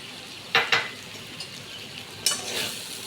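Shrimp frying in a pan and being stirred: a steady soft sizzle with a few scraping stir strokes, two close together early and another pair later, fairly close and moderately loud.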